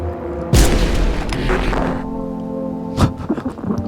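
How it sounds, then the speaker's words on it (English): A single loud, booming gunshot from the horror video game No, I'm Not a Human, followed by a long echoing tail, then a smaller thud and some faint rustling. "I'm shooting him."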